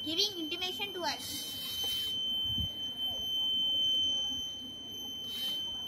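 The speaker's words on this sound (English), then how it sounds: "That's why the buzzer is giving intimation to us." A steady high-pitched electronic buzzer tone from a railway track crack detector sounds throughout, fairly faint, over background noise and muffled voices.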